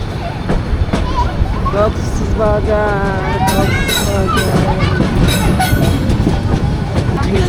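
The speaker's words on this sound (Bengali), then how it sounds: "এই যে আমাদের ট্রেন কক্সবাজার রেল স্টেশনে প্রবেশ করছে।" A passenger train pulling into Cox's Bazar railway station, with a steady rumbling roll, rhythmic wheel clatter and some brief high squeals, continuous and fairly loud throughout, with a murmur of voices in the background.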